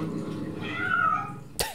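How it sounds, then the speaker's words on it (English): A cat meows in the video game Bad Mojo: a drawn-out, wavering cry in the middle of the clip, followed by a sharp, loud burst at the very end over a low, steady game background. "Fucking cat."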